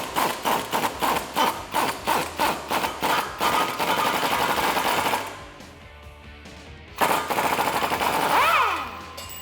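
Impact socket gun spinning out a bolt while fitting performance lowering springs on a 2008-2019 Dodge Challenger SR: a rapid series of loud hammering bursts, then a steadier whirring run, a pause, and another short burst.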